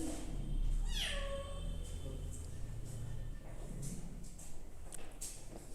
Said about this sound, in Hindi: बिल्ली कहाँ से आ गई भाई,